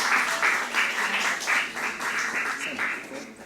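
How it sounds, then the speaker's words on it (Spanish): Audience applause welcoming a doctor onto the stage at a medical talk, a steady wash of clapping from a seated crowd held at even loudness for a few seconds, with no speech over it. "con aplausos a la doctora Sandra Guzmán"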